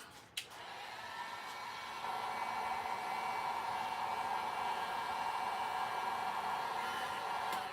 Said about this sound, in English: Let me just check something here with my heat gun